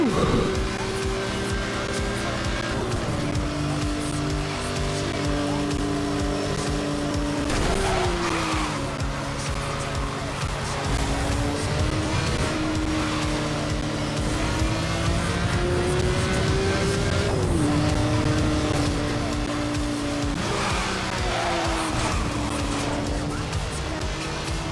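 A car drifts through turns in the remastered Need for Speed: Hot Pursuit, its engine droning continuously while tire squeal rises and falls in long sweeping tones, loud and unbroken for the whole stretch, with game music layered underneath.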